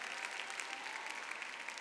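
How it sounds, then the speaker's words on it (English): Fans applaud and cheer steadily at a men's free skating event at the Grand Prix de France 2024 figure skating competition, with dense, continuous clapping from a large arena crowd and no speech. "as you see his fans cheer him on"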